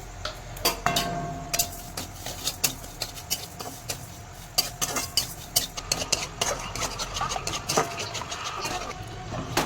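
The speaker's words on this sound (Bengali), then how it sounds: "এই চিনি নিয়েছি আমি ক্যারামেল করে নেবো" Sugar is stirred in a hot pan to make caramel, with repeated scraping and clinking of a spoon against the metal and a faint sizzle underneath.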